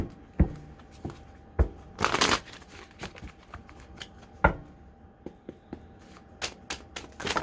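A deck of tarot cards is shuffled by hand nearby, giving crisp riffles and sharp taps in irregular bursts, with a longer ruffling sweep partway through and quiet pauses between.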